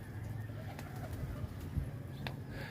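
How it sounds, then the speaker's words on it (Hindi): Soft, low cooing from a breeder pigeon with a distinctive lamp-like eye, heard close over a steady murmur of background noise. "दीवे की आंख वाला कबूतर है"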